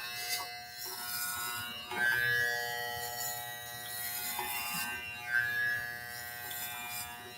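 Electric clippers buzz steadily as they shave a head, the motor's hum holding a constant pitch with small swells as the blades move across the scalp, close and fairly quiet, with no talking.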